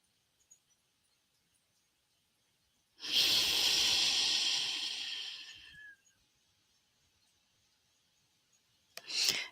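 Single long, slow breath during a guided meditation, a close airy whoosh lasting a few seconds, then quiet, with a brief start of another breath at the end.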